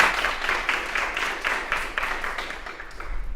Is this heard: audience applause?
yes